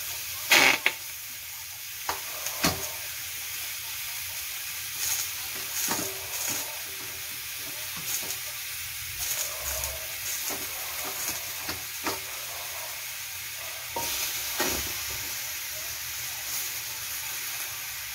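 Chicken wings sizzle quietly in a pan, added before the pan is hot, with a steady hiss broken by occasional clicks and scrapes of stirring; no voices.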